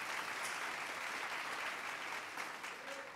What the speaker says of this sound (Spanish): Un fuerte aplauso a Dios por sus vidas